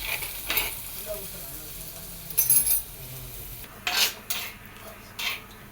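Dates and pumpkin seeds being stirred as they dry-roast in a pan, a steady scraping and rubbing with a few sharper clinks of a utensil against the metal, close and fairly quiet with no talking.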